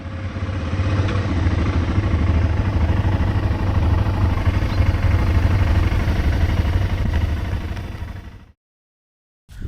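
Motorcycles idling after a long day of riding in Serbia and Montenegro, a steady, loud, close engine rumble with a faint clatter that runs unbroken for about eight seconds, then cuts out abruptly.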